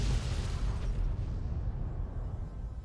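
A heavy explosion in Fallout: New Vegas, a loud deep boom with a burst of crackle that rolls off into a fading low rumble, with no talking.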